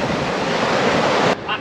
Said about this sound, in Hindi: फिर बहुत ही ज़्यादा हवा चल रही है।